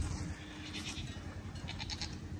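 Goats in a farm pen giving several faint bleats over a steady low background rumble, no voices.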